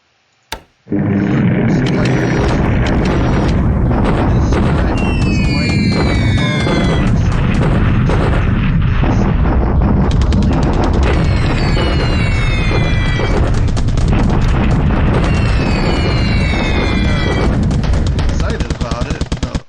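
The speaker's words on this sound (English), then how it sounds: "But here's a daily bombing raid on Bataan." Explosions from a daily bombing raid on Bataan in the War in the Pacific strategy game, a dense, continuous barrage of booms and rapid gunfire bursts with whistling tones, loud and sustained almost the whole time.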